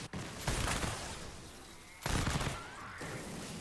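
Bundlebuss assault rifle in Fortnite Save the World, two loud bursts of rapid shots roughly a second and a half apart, over constant game background noise.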